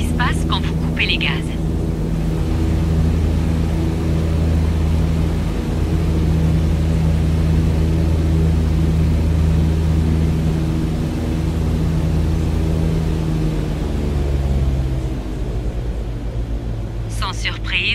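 Propeller aircraft engine in Microsoft Flight Simulator droning steadily with strong low harmonics, its pitch sliding gradually lower as the throttle is cut, with faint chirps near the start and end.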